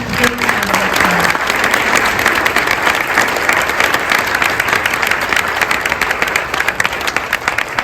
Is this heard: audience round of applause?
yes